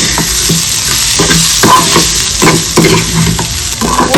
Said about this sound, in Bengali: চিলি সস দেবো একটু টমেটো সস এবার এটাকে মিশিয়ে নেব